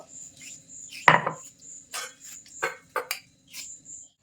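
Dry red chillies and whole cumin are ground by hand on a stone for a homemade mutton curry, heard as scattered sharp knocks and scraping strokes, one loud thud early on, over a steady high insect-like drone.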